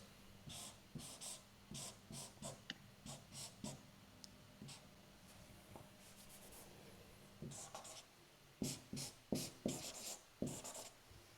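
Chalk or marker on a lecture-hall board writing a physics torque vector, bursts of short scratchy strokes in uneven clusters with pauses between, close and quiet, with faint breathing and no talk.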